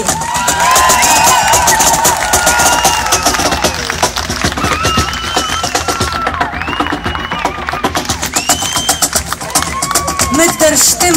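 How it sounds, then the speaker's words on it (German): Festival concert crowd cheering and clapping for the band's sound engineer, loud sustained applause with whoops and shouts close by, voices calling out over the clapping. "bitte um großen Applaus"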